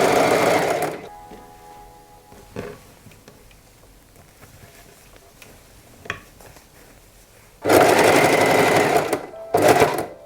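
A sewing machine topstitches a skirt waistband on the right side, running in two loud bursts, one at the start and another near the end, with quiet handling in between.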